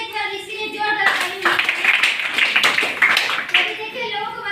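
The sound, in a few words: audience applause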